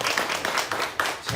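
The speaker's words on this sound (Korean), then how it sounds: "우리 뜨겁게 박수로" A church congregation claps warmly during a Korean revival service at a Paris Korean church, steady dense applause filling the space with a few sharper individual claps standing out.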